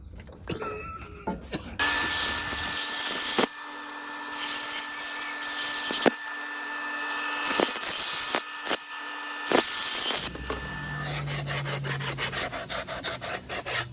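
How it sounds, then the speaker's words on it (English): Bandsaw roughly cutting out a wooden ukulele part: a steady motor whine with loud rasping cutting passes broken by short pauses, close and without talk. "we're just going to roughly cut this out on the bandsaw to the larger line"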